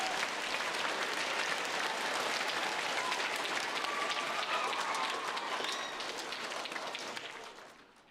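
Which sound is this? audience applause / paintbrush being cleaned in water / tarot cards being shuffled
audience applause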